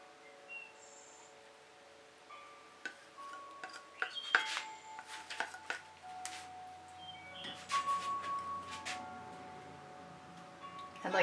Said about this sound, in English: It's a little harder to scrape off the spatula than it is the tool.